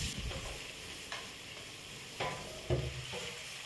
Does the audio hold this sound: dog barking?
no